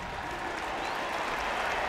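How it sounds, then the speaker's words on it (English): Stadium crowd in Baltimore applauding and cheering as college football teams, Notre Dame and Navy, leave the field at the end of the first half; a steady, dense wash of clapping and crowd noise throughout. "Crowd is up. Applause here in Baltimore."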